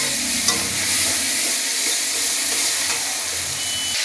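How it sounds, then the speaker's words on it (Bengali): Prawns fry in hot oil with dry red chilli, black cumin and five-spice seeds, hissing loudly and continuously, with stirring and scraping in the pan heard up close. "সোমবারা দিয়ে চিংড়ি মাছ ঢেলে দিলাম। চিংড়ি মাছটা ভেজে নেব।"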